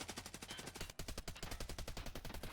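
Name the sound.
gunshots in Escape from Tarkov Arena video game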